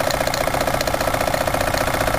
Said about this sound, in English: Cut the steam engine.